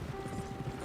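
Horse hooves clip-clop in Red Dead Redemption 2, a steady soft rhythm of hoof falls under a low humming game ambience, moderately near and even in loudness throughout.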